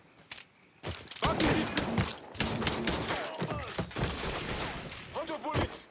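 Heavy gunfire in the Mafia III video game, with dense bursts of rapid shots and fusillades running almost continuously, loud and close, while several voices shout over the shooting.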